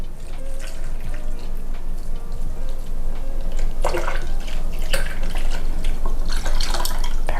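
Water pours from a tap into a blender for ginger lemonade, a steady close splashing rush with bursts of gurgling and dripping, no talk.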